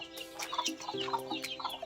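Hens clucking close by, a run of short repeated clucks and murmurs with a few longer drawn-out calls, heard alone with no voices.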